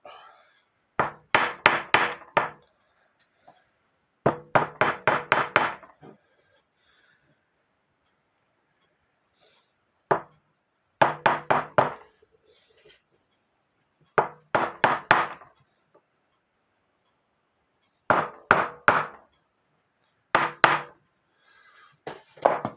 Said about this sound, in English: Turn the wire as I'm tapping the wire with my hammer, and it will straighten it out